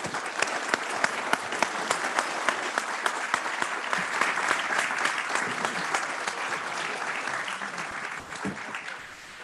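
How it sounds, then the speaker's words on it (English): Sustained audience clapping at a naval conference in Paris, a dense and fairly even burst of claps lasting several seconds that tapers slightly toward the end. "I'm sure that you deserve our applause"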